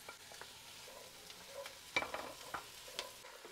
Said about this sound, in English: Now I'm gonna add my carrots and my celery with some of the celery leaves.